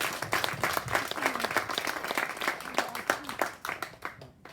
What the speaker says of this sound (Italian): Un applauso a Issa